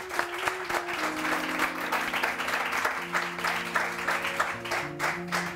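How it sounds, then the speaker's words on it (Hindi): Studio audience on a morning TV talk show claps for a guest stylist, a moderate, continuous patter of hands with sharper individual claps, faint tonal background music running underneath. "जहांगीर साहब के लिए बहुत सारी तालियां"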